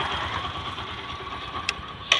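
A Bajaj Discover 100 motorcycle engine idles with an even, close hum. Two brief sharp clicks sound near the end.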